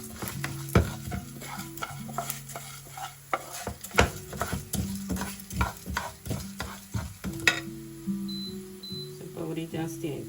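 Coriander and cumin seeds dry-roast in a pan, giving a busy run of stirring scrapes, light crackles and sharp metallic knocks from the utensil, close and fairly quiet.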